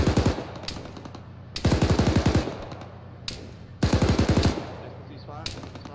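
Rifle fire in the military game Arma 3 sounds in three sharp bursts of rapid automatic shots, loud and close, separated by calmer stretches of background noise.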